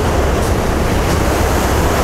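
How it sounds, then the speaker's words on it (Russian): Storm waves roughly five metres high break on the shore at Shirokaya Balka, a constant loud roar of surf and wind-blown spray filling the whole stretch without pause or speech. "Да, сейчас метров 5 волны, наверное, в некоторых местах можно наблюдать."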